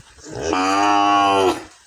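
A single long, loud moo from cattle in a cow shed, close by, rising, holding steady for about a second, then fading out on its own.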